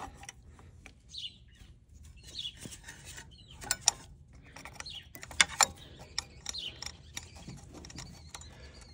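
Hand tool working on the radiator of a 2002 Chevy Silverado outdoors, heard as quiet, irregular metallic clicks and clanks, with faint birdsong in the background.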